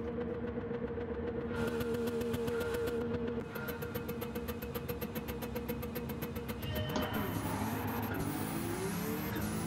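A race car in Gran Turismo 7 holds a steady engine drone, then surges with a rising whine and rapid mechanical ticking as a nitrous boost kicks in, loud and continuous with no talking.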